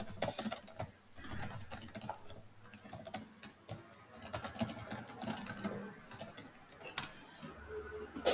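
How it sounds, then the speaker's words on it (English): Quiet clicking on a computer keyboard as a chat message is typed during an online accounting training session, with irregular soft keystrokes in quick bursts throughout and no talking. "I'm just going to type in the chat just to confirm."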